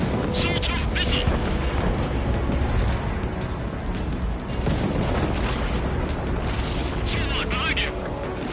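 Missile explosions and jet combat in the aerial combat video game Ace Combat 7: dense, loud booming and roaring that runs continuously, with radio chatter from pilots talking over the blasts.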